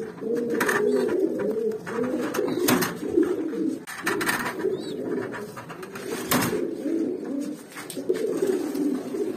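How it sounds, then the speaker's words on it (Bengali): Jabra pigeon chicks in a loft coo softly, with repeated overlapping cooing calls and occasional rustles, close and fairly quiet with no talk. "প্রথম চ্যাপ্টারে আপনাদের এবারের পাখি বাচ্চাগুলা দেখাইতেছি।"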